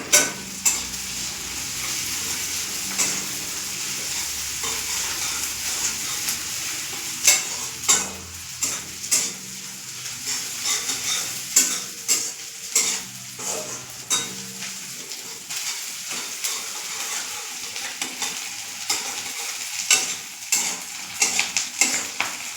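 Ground poppy seed paste thinned with a little water fries in a pan, giving a steady close sizzle broken by repeated scraping and stirring strokes of a utensil against the metal.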